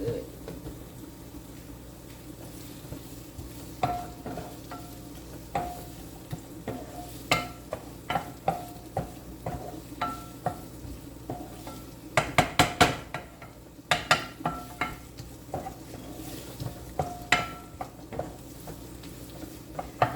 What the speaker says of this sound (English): Oh, my greens are cooking good.